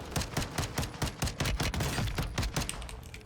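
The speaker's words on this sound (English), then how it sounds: "He's shooting at the Juggernaut." Rapid bursts of automatic gunfire in Call of Duty Warzone 2, aimed at a Juggernaut, crack out in a dense, steady rhythm of repeated shots, loud and close with no talk over them.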